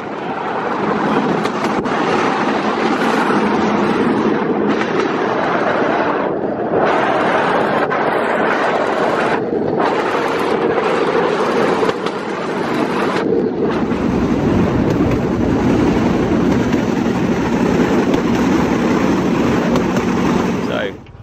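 A bamboo train in Battambang, Cambodia rattles steadily along a track, riding low, with strong wind rushing past, the noise continuous and loud throughout with a voice faintly mixed in.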